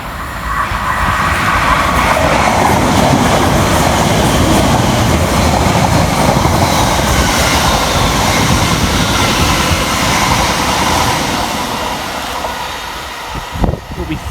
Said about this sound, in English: Next up for Greater Anglia under the head code 1K32 from London Liverpool Street through to Southend Victoria.